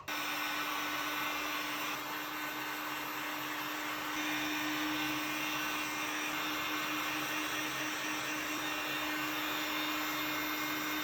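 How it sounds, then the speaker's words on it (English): A heat gun blows steadily on a 3D printer bed part during a Voron v2.4 build, a constant airy whir at moderate level with no talking. "I will heat it with heat gun a bit."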